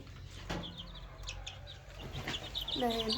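Chicks and hens at a poultry water feeder, with high chirping peeps and a few short clucks scattered over a low background murmur, growing slightly busier toward the end.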